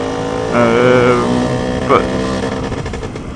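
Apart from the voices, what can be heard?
Lambretta scooter with Simonini engine and different exhaust muffler running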